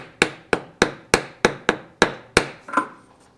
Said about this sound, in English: I'm going to tap it in with a plastic hammer